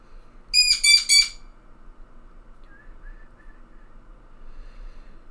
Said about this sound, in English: Bird's quite loud.